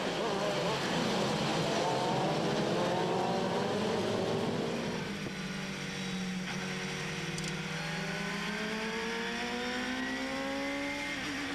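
Pack of vintage race cars roaring off the line at the start of an endurance race, loud overlapping engine notes rising and sweeping in pitch as they accelerate away, with no voices over them.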